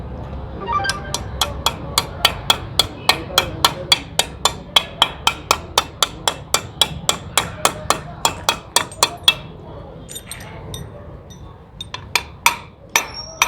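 Repeated hammer blows drive a main shaft bearing into a Hero Splendor motorcycle gearbox, about thirty sharp metallic strikes in a steady rhythm before a few slower, irregular taps at the end.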